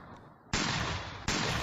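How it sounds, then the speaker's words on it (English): Two sharp, loud gunshots fired from a gun loaded with homemade bullets, each hitting hard and leaving a long sustained echo, spaced under a second apart. "That's a pretty badass gunshot, Mike."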